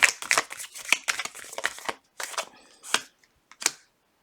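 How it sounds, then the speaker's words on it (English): A deck of tarot cards is shuffled up close in quick, crisp bursts of riffling and slapping, pausing briefly between a few final short shuffles; no talking. "One more shuffle."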